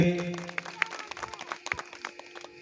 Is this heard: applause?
yes